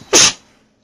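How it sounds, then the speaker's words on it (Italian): A single sharp sneeze bursts out close and loud, lasting about a quarter second before trailing off into quiet, during a dubbed playthrough of Ace Attorney Investigations. "devo starnutire"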